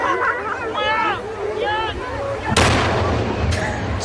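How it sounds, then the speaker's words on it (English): A dead whale carcass blown up with explosives, a sudden loud blast that is followed by a second burst and a rumbling tail, with people talking over the sound before and after. "Here's the explosion of this one."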